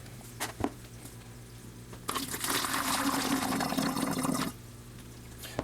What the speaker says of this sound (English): fill this bottle to the 3:1 ratio line here with the nutrient solution